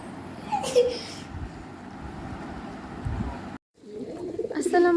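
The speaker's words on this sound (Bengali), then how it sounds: "খাও কবুতর" Pigeons coo softly nearby while being fed, with low bird murmurs and a person speaking over them.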